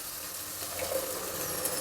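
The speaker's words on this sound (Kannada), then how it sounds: "ಈಗ ರುಬ್ಕೊಂಡಿರೋ ಮಸಾಲೆನ ಹಾಕ್ತಾಯಿದ್ದೀನಿ." Freshly ground wet masala goes into a hot pot of pulao base with field beans fried in tempering, making a steady, soft sizzle and hiss throughout.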